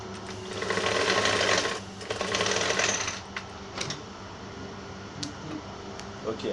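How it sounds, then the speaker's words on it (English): Sewing machine stitching the side pocket of a women's trouser, running in two loud continuous bursts of rapid whirring stitches, then quieter intermittent clicks and short runs as the fabric is adjusted. "Hold the both together by sewing like this."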